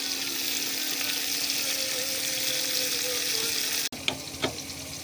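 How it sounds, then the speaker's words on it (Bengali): Yardlong bean fritters coated in rice flour and gram flour batter with spices sizzle steadily in hot oil, a dense continuous crackle, followed near the end by a few sharp clinks of utensils. "চালের গুঁড়ি, বেসন এবং সব ধরনের মশলা দিয়ে বরবটিটা খুব সুন্দর করে ভেজে নিলাম বেসন দিয়ে।"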